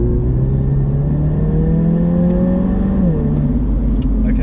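MINI JCW GP3 with a 306 bhp turbocharged engine accelerating hard on a track, a loud, steady rising engine drone with turbo whir that climbs in pitch, dips briefly at a gear change, then pulls on, close and continuous.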